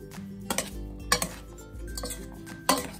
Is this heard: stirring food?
yes